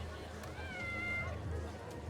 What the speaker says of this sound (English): They've got a cat.